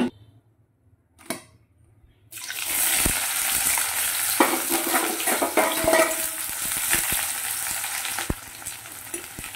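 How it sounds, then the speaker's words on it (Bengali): Onion sizzles loudly in hot white oil in a wok, a dense crackling hiss that starts abruptly after a quiet moment. Occasional clicks and stirring knocks come through close by, with no talk. "পেঁয়াজটা একটু ভেজে নিই, আঁচ বাড়িয়ে দিয়ে একটু কড়া ভাজা করে নেব"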